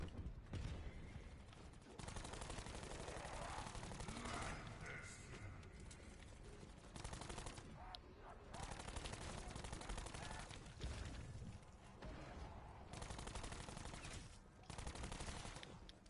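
A full-auto pistol fires rapid bursts in Call of Duty: Black Ops 4, with repeated rattling volleys broken by short pauses and mechanical clicks. The shots are quite loud against busy game background noise.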